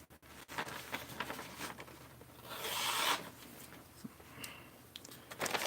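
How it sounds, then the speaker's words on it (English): A work knife drawn across a sharpening surface, giving a series of soft rasping, rubbing strokes at close range, uneven in rhythm with brief pauses and no talking. "I will go ahead and show how I usually like to sharpen knives"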